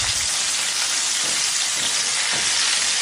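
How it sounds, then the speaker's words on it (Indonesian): Raw chicken pieces deep-frying in plenty of hot oil for an Indonesian home-style dish, a loud, steady, dense sizzle and crackle running unbroken and close throughout, with no talking. "ayamnya masih mentah, kemudian kita langsung goreng"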